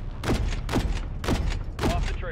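Four heavy bursts of gunfire aimed at enemy helicopters in the video game Call of Duty: Modern Warfare III, each a loud booming volley with rumbling tails, evenly spaced about half a second apart.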